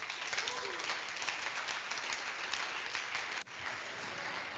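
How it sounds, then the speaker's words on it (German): Conference audience at the lernOS Convention 2023 applauds after a lightning talk, a steady dense wash of clapping that holds loud for several seconds with a brief dip near the end. "Dein Applaus hier vor Ort und online."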